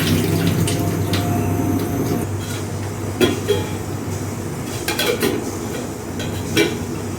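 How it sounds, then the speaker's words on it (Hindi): Sabudana is rinsed and water poured into a pot in a home kitchen, with sloshing water and scattered clinks of the pot and utensils, close and moderately loud, with no talking. "इसको अच्छे से वॉश करने के बाद मैं डालने जा रही हूँ इसमें पानी"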